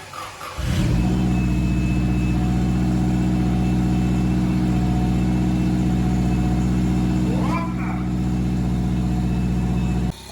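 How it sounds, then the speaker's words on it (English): A Subaru 6R4 rally car engine starts with a sharp catch and settles into a loud, steady rumbling idle, with a brief blip near the end before it cuts off. "I may start the car up as well."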